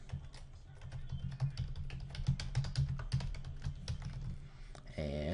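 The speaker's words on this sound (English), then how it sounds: "So what I'm going to do here is just type in my address." Fingers type an email address on a computer keyboard, a steady run of quick, close, clattering keystrokes with a few louder taps, ending in a brief tonal chime.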